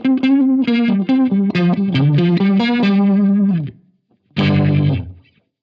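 Electric guitar through a Strymon UltraViolet vibe pedal on a fast sweep, a quick run of picked notes wobbling as they play, then a short pause and one warbling held chord that fades out, no voices.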